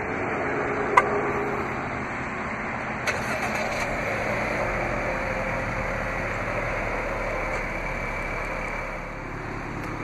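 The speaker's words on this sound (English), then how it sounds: "To operate is easy, just double press the remote start button on the key fob." A 2016 Jeep Cherokee Latitude 75th Anniversary Edition 4X4 started by remote start, with a brief click, a short starter burst and then a steady idle hum continuing for several seconds.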